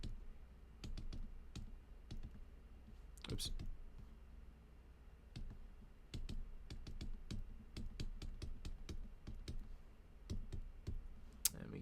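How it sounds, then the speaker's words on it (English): Rapid bursts of key taps on a small keypad, irregular and close, with a brief spoken word partway through. "it's going to be a lot of typing"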